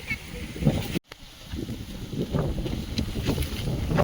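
Wind buffets the microphone in a steady rumbling roar while cooking outdoors in a sudden rainstorm, with a brief dropout and faint voices beneath the gusts.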